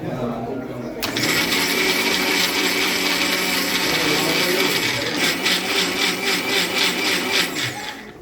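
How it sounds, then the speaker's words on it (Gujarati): An electric mixer blending carrots for carrot and beet juice at a children's fair at a primary school. It kicks in abruptly and whirs loudly and steadily as people talk nearby. "એમણે મિક્સરની અંદર ગાજર નાખ્યા છે અને જ્યુસ બનાવે છે."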